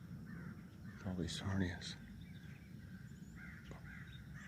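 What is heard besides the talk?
crows cawing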